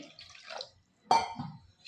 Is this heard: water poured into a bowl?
yes